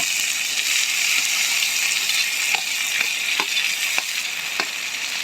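Cut cucumber pieces, seeds left in, dropped into a hot pan of frying dried prawns for a tomato curry, giving a steady close sizzle with a few soft stirring clicks and no talking.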